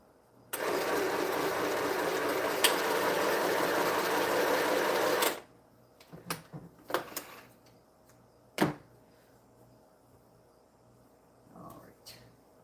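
A sewing machine runs steadily for about five seconds, loud and close, then stops, followed by scattered soft clicks and handling noises with faint voices late on.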